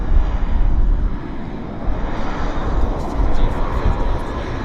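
A Central Mountain Air airplane taxiing at Vancouver Airport gives a loud, steady engine roar with broad rumbling noise, swelling slightly near the end, while faint voices murmur underneath.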